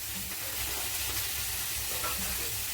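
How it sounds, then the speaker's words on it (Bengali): Boiled mustard greens (raishak) hitting hot oil in a pan that held fried dried red chillies, giving a steady, close sizzle and fry hiss with faint stirring, no voices. "এবারে শাকের মধ্যে দিয়ে দিচ্ছি।"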